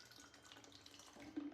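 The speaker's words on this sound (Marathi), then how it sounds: "त्यात पाणी टाकतो उरलेल्या याच्यात" Water runs softly into the dregs of a protein shake left in a shaker, a faint steady pour with a gentle splashing swell near the end.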